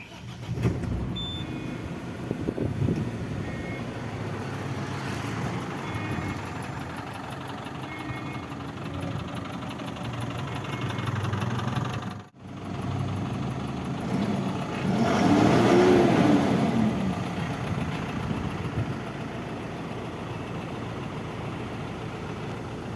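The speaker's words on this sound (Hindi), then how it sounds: "अभी इंजन को स्टार्ट कर इंजन के साउंड सुनाएंगे।" A heavy diesel engine of a Tata 612 SK BS6 Phase 2 tipper truck rumbles steadily at idle for a long stretch, cuts off briefly, then restarts and revs louder before settling back to a low idle.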